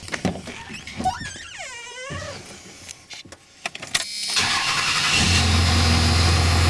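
A Dodge Cummins diesel pickup with a stuck EGR valve starts up after some mechanical clicks and rising whines, then settles into a loud, steady engine roar close by.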